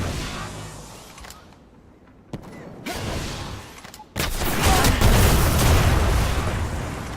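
Rocket launcher fire in the video game Destiny, with a sudden loud blast and sustained roaring burst of explosive noise that follows quieter mechanical clatter and creaks.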